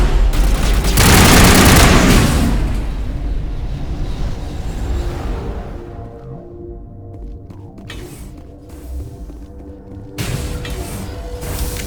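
Gunfire and explosions in a Mass Effect Legendary Edition battle against Geth: a loud booming volley up front, then rolling bursts of shots and rumble that fade into quieter combat noise, with a fresh burst near the end.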